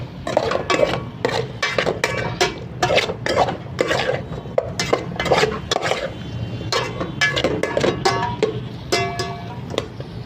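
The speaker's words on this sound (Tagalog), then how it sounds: "Haluin natin mga ka-dragon." A spoon scrapes and clinks against a pan while pakbet with fried shrimp is stirred, irregular rapid knocks and scrapes continuing steadily throughout, close and fairly loud with no talking.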